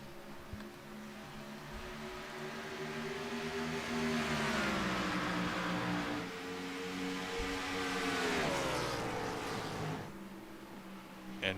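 Race cars lapping the Darlington track in the iRacing Cup Series sim, a steady, loud engine drone with rising and falling pitch as the cars accelerate and pass, continuous for the whole stretch, with no voices.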